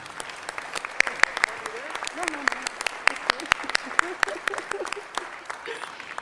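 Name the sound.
audience applause at a presidential investiture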